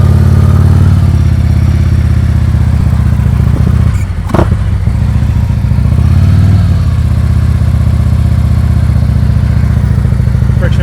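A motorcycle idles and putters loudly and steadily up close during slow-speed riding practice, with a brief dip and clunk midway and a slight rise in engine tone afterward.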